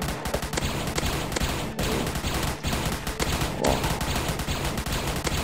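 The Fiery Cannon in Roblox Zombie Attack fires repeatedly, a dense, loud barrage of rapid blasts that runs continuously, with brief gaps only between volleys.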